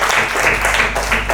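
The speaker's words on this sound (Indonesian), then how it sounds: "Tepuk tangan dulu." Students in a classroom clap together in a short, loud burst, many hands at once, close and dense, with the rhythm rising and falling slightly over about a second and a half.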